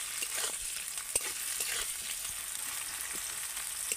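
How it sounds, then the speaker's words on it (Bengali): Chopped onions fry in mustard oil, a soft continuous sizzle with faint scattered crackles and light utensil clicks, quiet and close with no voices. "প্রথমে পেঁয়াজটাকে ভালো করে ভেজে নেব।"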